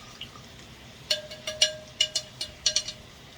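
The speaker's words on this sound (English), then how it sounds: "let me stir this up a little bit" A spoon stirs a pot roast with added water in a ceramic crockpot, making a quiet run of about eight sharp, ringing clinks and light watery splashes at an irregular pace, close by.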